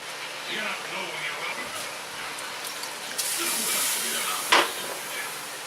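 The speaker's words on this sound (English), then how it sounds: "So you can see the tomatillos boiling in the background." A steady hiss of steam and bubbling from a pot of boiling tomatillos, fairly close, with a soft clink near the end.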